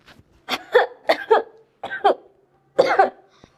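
A person coughs in a Haryanvi film scene, giving a series of harsh, close coughs in uneven clusters of two or three, with short pauses between them and no speech.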